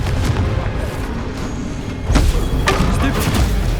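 Confringo blasting spells cast in Hogwarts Legacy, loud booming bursts with a heavier impact about halfway through, set in ongoing combat noise.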